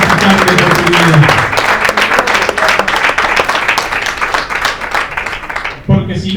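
A church congregation bursts into dense, loud applause that carries on steadily for about six seconds before breaking off, with some voices mixed into the clapping.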